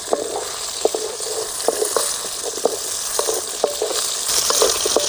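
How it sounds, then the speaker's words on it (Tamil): Onions frying in a pan for tamarind curry: a steady close sizzle throughout, punctuated by regular light clinks of a spoon stirring against the pan, with no talk. "நல்ல வெங்காயம் சேவக்கிட்டு"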